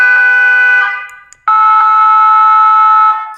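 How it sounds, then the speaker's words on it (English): A car horn sound effect plays loud from a Big Bubba wireless horn speaker: a sustained steady tone for nearly a second, a brief gap, then a longer blast of about two seconds. "I just loaded different car horn sounds so that you can have a little beep"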